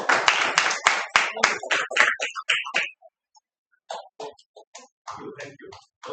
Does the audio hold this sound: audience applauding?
yes